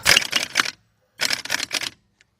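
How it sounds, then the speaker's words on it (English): Impact gun tightening a bolt during rear brake work on a 1993 Nissan Altima 2.4: two close, loud rattling bursts of hammering, each under a second, separated by a short pause. "Put our gun on tightening. And let's tighten this up."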